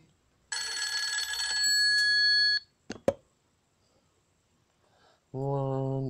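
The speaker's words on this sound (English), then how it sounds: "that's your phone call." A telephone rings in short electronic trill bursts, loud and close, followed by a couple of sharp clicks and then a steady tonal beep after a pause.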